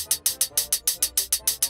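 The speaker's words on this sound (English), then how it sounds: "So he has two slightly different hi-hat samples that sound like this." Two slightly different hi-hat drum samples from a homemade sample pack, heard alone as a steady run of about eleven bright, crisp, short hits at an even quick pulse.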